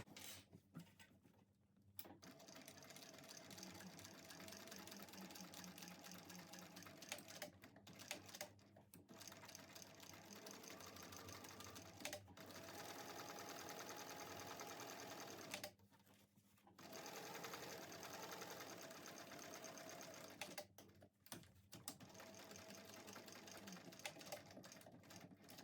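A sewing machine double stitches a tote bag seam, with long runs of fast, even stitching broken by a few short pauses, heard up close with no voices.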